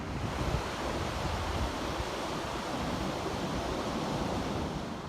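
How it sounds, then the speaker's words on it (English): Heavy surf thundering below dramatic coastal cliffs, a steady broadband roar of breaking ocean waves with wind buffeting the microphone throughout, continuous and loud with no voices. "dramatic sort of cliffscapes and beautiful thundering ocean below"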